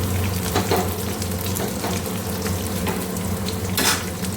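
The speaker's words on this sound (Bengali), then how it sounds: "পেঁয়াজ হালকা ভাজা হয়ে গেছে, দিয়ে দিচ্ছি এখন আদা রসুনটা হালকা কুটে নিয়েছি।" Chopped ginger and garlic fry with lightly browned onions in a pan, giving a steady, dense sizzle with occasional stirring scrapes throughout, no voices.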